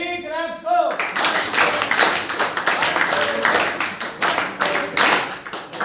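A group of people clap together in repeated quick bursts, loud and close, after a short spoken prompt.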